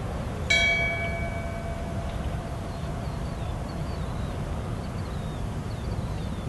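A single bell strike rings out in memorial tribute at a community broadcast, its clear tone decaying slowly over a steady low background hum, with no voices.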